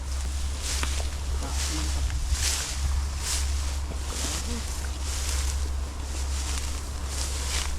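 Strong wild river current rushing steadily outdoors, a broad continuous wash of water with gusts of wind noise buffeting the microphone and faint voices in the background.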